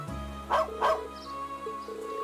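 Two quick dog barks from the Trails of Cold Steel video game, close and clear over a steady hum of game music.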